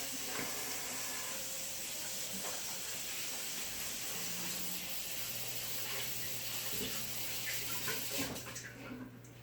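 Tap water running steadily into a sink while hands are washed with soap in a home kitchen, a continuous close hiss with faint splashes and muffled background sounds.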